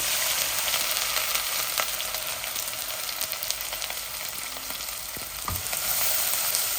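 Onion and garlic fry in a new pot with a loud, dense, continuous sizzling hiss, with a few faint clicks and scrapes of the spoon throughout.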